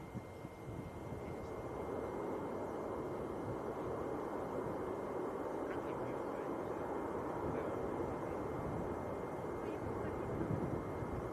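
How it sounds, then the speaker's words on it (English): A Ryanair airliner touches down at Manchester Airport, heard as a steady, fairly faint broadband jet rumble and roar in the distance. The sound stays even throughout with no clear peaks. "Ryanair just touching down as well."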